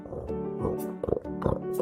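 A cartoon pig visiting a farmyard oinks in a few short, nasal grunting snorts, close and fairly soft, with brief pauses between them.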